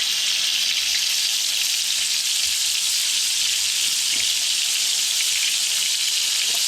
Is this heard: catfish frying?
yes